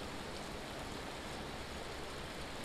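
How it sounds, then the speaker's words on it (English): Hail falls in the Vintage Story video game as a dense, continuous hiss of pattering that stays even and fairly soft throughout, with no voices over it. "Look at this. Hail, it hurts you too."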